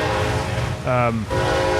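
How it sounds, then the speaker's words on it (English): A passing train's horn sounds one loud, sustained blast over the steady rumble of rail traffic outdoors, with faint voices in the background. "There's a train behind us that comes. There's about 30 trains that come a day, so it'll stop honking in a minute."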